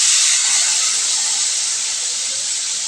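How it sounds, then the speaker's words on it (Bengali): Spices going into frying potato and eggplant in a hot pan, a loud, even hiss of sizzling oil and steam that holds steady throughout. "এবারে মশলা দিয়ে দিচ্ছি।"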